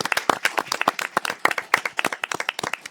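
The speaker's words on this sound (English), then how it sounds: "So let's give them a round of applause for serving." A small council meeting audience claps for committee members, close, sharp individual hand claps in a quick uneven patter, loud and clear with only a few hands.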